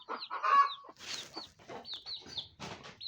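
Free-range village chickens cluck and squawk repeatedly at close range, with short sharp calls overlapping in an irregular rhythm.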